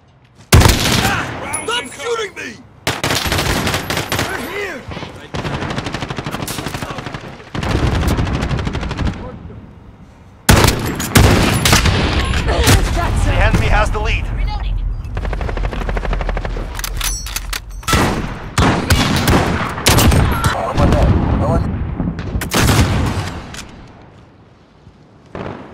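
Sustained gunfire in a Call of Duty: Modern Warfare team deathmatch at Cheshire Park: rapid automatic bursts and single shots, loud and close, broken by brief lulls, with shouted voices mixed in.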